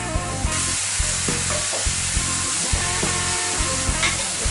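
Tomato added to a frying pan with paprika for pollo al chilindrón, sizzling loudly and steadily while being stirred, the hiss continuous and close with faint scraping throughout.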